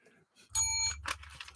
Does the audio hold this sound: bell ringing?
yes